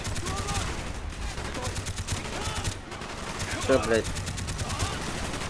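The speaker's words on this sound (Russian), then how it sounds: "Ну-ка, там другой ствол. Ну, тоже нормально стреляет." Rapid automatic gunfire from a gun in Call of Duty Black Ops, a steady rattling stream of shots running throughout, with a man's brief spoken exclamation partway through.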